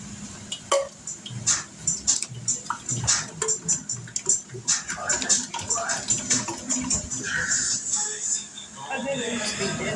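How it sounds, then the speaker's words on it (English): Tomato juice is dumped into a pot of chili in the making, a copycat of Wendy's recipe. It pours and splashes close by with some clinking of cookware, and a person talks over it. "We're going to take that tomato juice, dump that in there."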